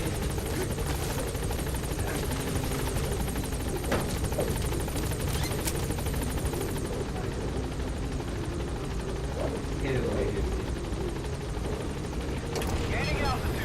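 The Pequod helicopter in Metal Gear Solid V hovers at a landing zone, its steady rotor drone and engine whine filling the scene with faint distant pops and scattered thuds, while a voice speaks over it.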